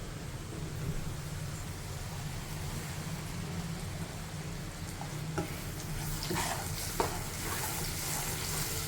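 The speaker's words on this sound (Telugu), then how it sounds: "ఈ ప్యూర్ వేసేద్దాం" Tomato puree frying in hot oil for a tomato rasam gives a steady, close sizzling hiss throughout, with a few sharp pops and spatters toward the end and no talking.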